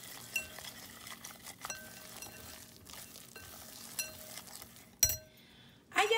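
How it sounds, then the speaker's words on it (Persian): A utensil stirs through thick batter in a bowl, soft repeated scraping with light clinks against the sides, quiet and close. "خوب همه مواد رو با هم مخلوط میکنم."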